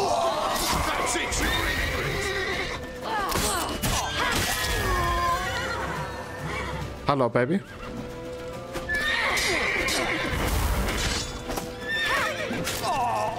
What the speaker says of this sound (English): The horse kicked him dead.